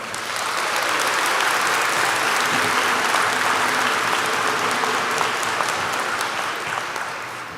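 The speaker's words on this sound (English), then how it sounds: "How about a round of applause for them?" A large audience at a 2024 college convocation ceremony gives graduates sustained applause, a thick, steady roar of clapping that holds level for several seconds before easing slightly.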